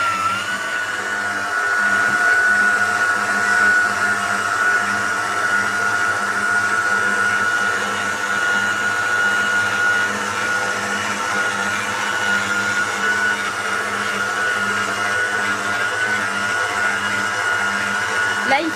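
An electric mixer whirs continuously through waffle batter with a steady high whine and a faint rattling texture, and a voice speaks briefly over it.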